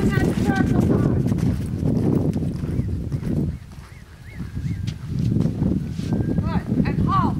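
A horse canters a circle in a riding arena, hoofbeats thudding in a rolling rhythm while an instructor talks over it and geese honk in the background.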